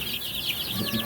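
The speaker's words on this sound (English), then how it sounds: "So this is the chicken farm finally." Many chickens on a farm cluck and chatter together at close range, a dense overlapping flock sound with a steady rhythm.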